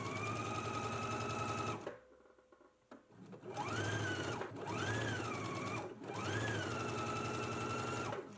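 A sewing machine stitches a fabric strap along its long edge with a 3/8-inch seam allowance, whirring steadily up close in three sustained runs separated by brief pauses.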